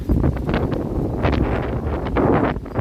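Strong gusty wind at Toronto's Harbourfront under dark, stormy skies, buffeting the microphone, rumbling and roaring in uneven bursts throughout.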